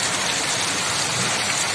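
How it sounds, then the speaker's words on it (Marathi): Steady pre-monsoon rain pours down in a close, continuous hiss of drops drumming on surfaces, with no voices over it. "पाऊस गरजेचाच होता, तो आला"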